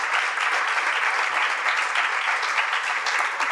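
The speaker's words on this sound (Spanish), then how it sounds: "Este aplauso de cariño es para todos ustedes." Church congregation at Comunidad Cristiana Hacienda de Dios breaks into sustained applause, a bright, dense roar of many clapping hands, steady and fairly close, with no pauses.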